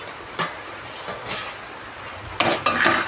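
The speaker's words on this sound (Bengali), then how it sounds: "এবার ঢাকনাটা তুলে একটু দেখে নিই সবজিগুলো কতটা মজেছে" A metal lid lifted off a pot of mixed vegetables cooking for a pea lentil dish, with sharp clinks and scraping knocks of metal and utensils, scattered and moderately close, a louder clatter near the end.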